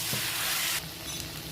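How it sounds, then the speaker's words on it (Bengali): Mutton with coriander leaves sizzles and fries in a pan while being stirred, a steady close hiss that drops in brightness partway through, with no talking. "ধনে পাতাটা দিয়ে দেবো। ভালো করে নেড়ে কষে নেবো ভালো করে।"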